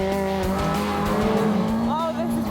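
A 212 PS Citroen Saxo rallycross car drives close by, its engine droning loud and steady with a brief rising whine near the end, while a voice speaks over it.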